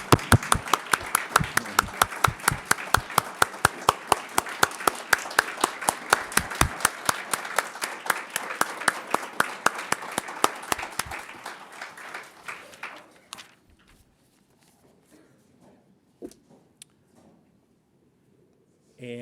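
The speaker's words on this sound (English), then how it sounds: "let's just thank her and give her a round of applause" Appreciation applause for a school board clerk at an Arlington school board meeting, starting as dense, crisp clapping from a modest group, then thinning and fading out into scattered claps and near-silence.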